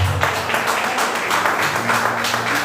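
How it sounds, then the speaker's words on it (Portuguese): A church congregation claps in praise during a communion service, a steady dense wash of applause that fills the room with faint voices and tonal hum beneath it. "Palmas que agradecem ao Senhor Jesus Cristo, Pai"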